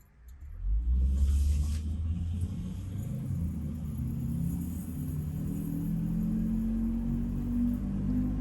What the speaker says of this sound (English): This car makes a ton of noise because there's a ton of things wrong with it.